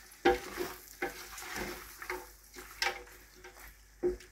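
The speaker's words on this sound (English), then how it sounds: "I'm gonna add our onions. I'm just gonna fry this off" Bacon and onions fry in a pan on a high stove, with a soft, quiet sizzle broken by several sharp stirring clacks and scrapes at an uneven pace.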